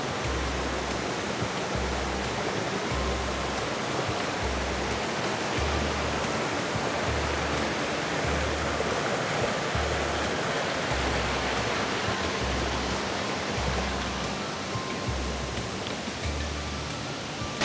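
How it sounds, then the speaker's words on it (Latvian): A waterfall on a hiking trail, a steady full-band rush of falling water that stays constant and loud for the whole stretch, with no voices over it. "Esmu sasniegusi pirmo ūdenskritumu, ko sauc par melancīnu."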